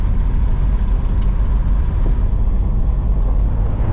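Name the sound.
1968 Chrysler Imperial 440 driving on gravel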